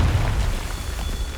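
A Confringo spell explosion from Hogwarts Legacy rumbles loud and close, a heavy low boom that sustains and slowly decays over the short stretch.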